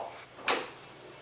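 A workshop door swings open in one short, close burst of broadband noise with a faint hiss trailing after it, set in a quiet room with no voices. The workshop is the restoration space for a Jeep CJ7.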